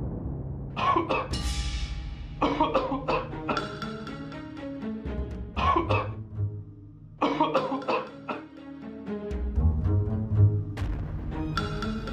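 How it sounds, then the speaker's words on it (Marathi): A man coughs in repeated harsh, rough bursts through a domestic scene in a Marathi period TV drama, the fits loud and close, with short pauses between them. "खोकला बळावलेला दिसतोय."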